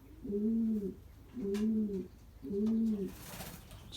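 Belgian racing pigeon cock birds cooing in a loft, three clear, close, rolling coos in an even rhythm with short pauses between them.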